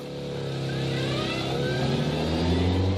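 Citroën 2CV engine reversing, a steady buzzing drone that rises gradually in pitch and loudness as the car picks up speed, close and unbroken throughout.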